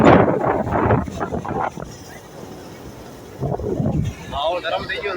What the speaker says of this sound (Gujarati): વરસાદ થોડું થોડું થઈ રહ્યો છે. વાવાઝોડું થોડી જોરદાર.